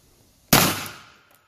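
A single sharp 10mm gunshot from a Hornady Custom Defense 155 grain XTP round cracks out loud and close, then its echo fades away over about a second.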